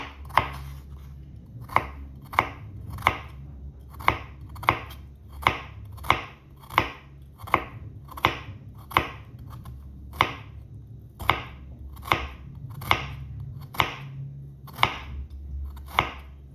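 Knife chopping seasoning vegetables on a cutting board for a quick Jamaican vegetable stir fry, with steady sharp chops in an uneven rhythm, close and clear with no talking.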